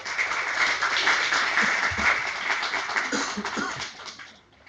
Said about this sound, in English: an applaud is always welcome